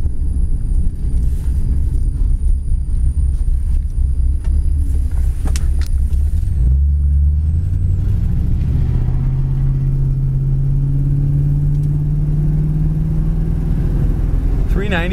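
Blue 1966 Ford Thunderbird driving on the road, its engine rumbling loud and close, then revving up and accelerating with rising engine pitch as the car picks up speed.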